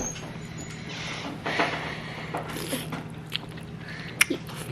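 Someone bites and chews a boiled-egg seafood boil dish up close, soft squishy mouth sounds with a few sharper clicks over quiet room background.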